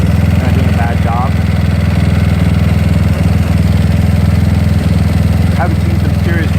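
A GY6 scooter engine fitted with an OKO PWK 30mm carburetor idles steadily and loudly up close, with a continuous rhythmic low putter and faint voices in the background.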